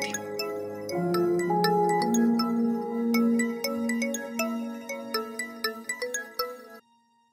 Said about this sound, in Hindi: अम्मी का फोन आ रहा है।